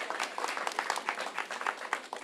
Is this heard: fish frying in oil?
no